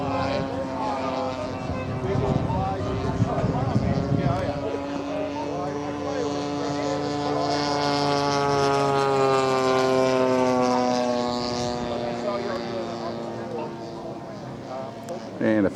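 A radio-controlled L4 Grasshopper model airplane with a fuel-powered engine flies overhead at an outdoor club event, its buzzing tone rising and falling in pitch as it passes, with brief talk nearby early on.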